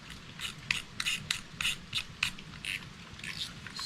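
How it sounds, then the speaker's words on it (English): Plastic drag knob being screwed back onto a Zebco Quantum Blue Runner 50 spinning reel, giving a series of short, close, crisp ratcheting clicks and scrapes in an even rhythm, with no talking. "Put our drag knob back in."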